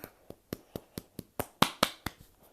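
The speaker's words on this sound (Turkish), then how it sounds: "Alkış sesim geliyor mu?" Someone clapping their hands about a dozen times at a steady rhythm, the claps growing louder toward the middle and then fading, close and alone.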